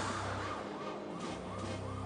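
An ambulance siren wails in an animated cartoon, a loud rising-and-falling electronic tone sweeping steadily over a rumbling vehicle background.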